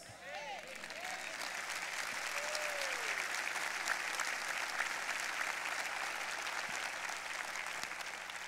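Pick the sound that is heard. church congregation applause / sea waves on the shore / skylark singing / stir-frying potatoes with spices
church congregation applause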